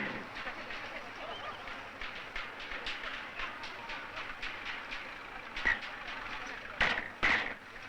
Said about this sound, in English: These trains are called petroleum dragons.